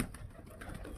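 Pigeons kept at home coo softly and at a distance, a faint low murmur over a quiet background.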